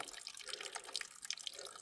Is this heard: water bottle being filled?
yes